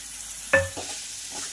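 Two medium tomatoes, finely chopped, drop into a hot pan with a sudden loud hiss that fades into quieter frying and a light stir.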